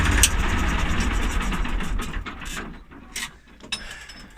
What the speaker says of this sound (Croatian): Čekaj da ugasimo mašinu.